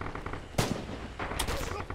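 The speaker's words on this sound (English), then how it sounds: "I don't know who the fuck is shooting at me like that." Gunfire in the Red Orchestra 2 video game, on the Spartanovka map: two sharp bursts of shots, moderately distant, with rattling reports and background battle noise.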